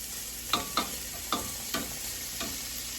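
Sliced sirloin Philly steak frying in a pan with onions and garlic, a steady close sizzle broken by five or so sharp scraping clicks of a utensil at uneven intervals.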